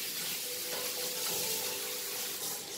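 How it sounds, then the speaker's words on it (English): A small splash of water goes into a hot pan of frying potatoes and cauliflower masala, giving a steady hiss and bubbling sizzle that fills the moment without any voices. "I will add little water,"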